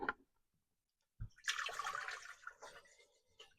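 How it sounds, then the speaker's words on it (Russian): Water pours into a cooking pot in a steady, splashing stream for about two seconds, then tapers off, preceded by a brief clunk. "Для начала заливаем в кастрюлю воду."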